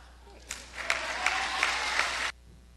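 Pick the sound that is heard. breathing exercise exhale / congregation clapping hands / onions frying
congregation clapping hands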